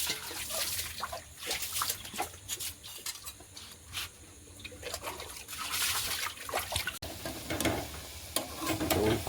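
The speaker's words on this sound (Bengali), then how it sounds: "সবটাই ডবল ফ্রাই হবে, তবে কোটিংগুলো ধরবে ভালো।" Coated chicken fries in hot oil with a busy, crackling sizzle, stirred now and then with scraping and liquid sounds, close up and continuous.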